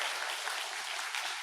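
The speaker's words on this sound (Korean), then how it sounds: "박수로 좀 환영해 주시면 감사하겠습니다" An audience claps to welcome a Catholic priest at a Lenten hospice lecture, a steady wash of applause at moderate distance with no speech over it.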